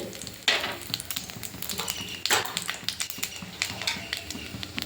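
Black cumin seeds dropped into hot leftover oil in a wok for tempering, a crackling sizzle with sharp bursts and pops near the start and middle, close up, with faint talking underneath.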